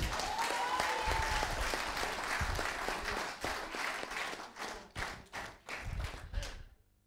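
A church congregation at a wedding blessing clapping to acclaim Jesus, a dense round of applause that thins out into a few scattered louder claps before fading to silence.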